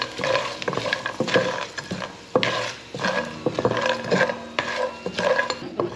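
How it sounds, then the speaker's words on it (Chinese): Star anise and cinnamon bark stir-fry in a wok, metal spatula scraping and clattering in quick irregular strokes over a steady close sizzle of hot oil. "把八角和桂皮的香味炒出来，冰糖和月桂叶也下来"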